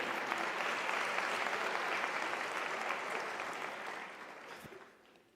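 An audience at a university graduation ceremony claps in a sustained round of applause that fades out toward the end.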